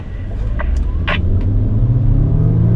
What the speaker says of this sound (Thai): ออกไปพร้อมกันเร่งให้หกสิบแล้วพยายามประคองให้คู่กันนะครับ